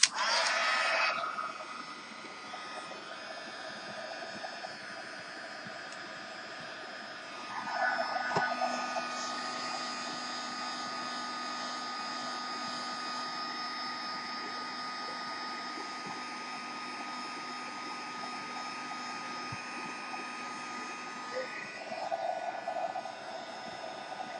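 Heat gun blowing hot air over a resin mold gives a continuous close whooshing roar with a steady motor hum, swelling slightly as it moves, with no talking over it.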